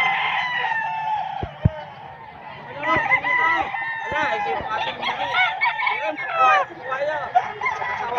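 Stag roosters crowing at a Bocaue gamefowl market, several close, loud crows that overlap one another, with clucks, a few sharp knocks and someone talking in between.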